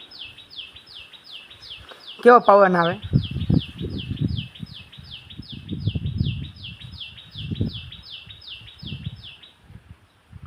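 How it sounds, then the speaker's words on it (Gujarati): Rapid, regular high house sparrow chirps repeat steadily throughout, with a louder call burst early on and a person talking over them. "જો ચકલી બોલે, સાંભળો"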